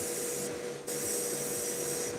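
An airbrush sprays paint onto a miniature figure with a steady, close hiss that cuts out briefly and then resumes, over a faint background hum.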